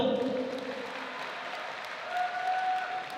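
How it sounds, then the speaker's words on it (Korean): An audience at a ZFN 02 mixed martial arts event applauds after a fight, a steady, fairly distant wash of clapping from a crowd that holds through the whole moment, with a faint tone drifting underneath. "여러분 박수 보내주십시오"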